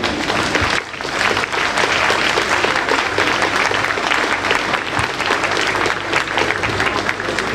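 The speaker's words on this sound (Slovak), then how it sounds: "Dámy a páni, privítajte ich veľkým potleskom." Loud, dense applause from a large crowd at an outdoor pro-life march rally in Bratislava, a continuous roar of many hands clapping close by for several seconds after a brief dip.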